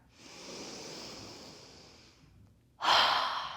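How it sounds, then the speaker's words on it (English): Deep, steady breathing during a guided yoga session, with long airy inhales through the nose and exhales through the mouth, close and soft, then a louder breath near the end, with no talking. "Deep inhales through your nose. Long, steady exhales through your mouth."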